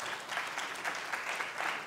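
An audience at an oratorical contest gives a round of applause, with dense, even clapping from many people that holds steady and fairly loud throughout.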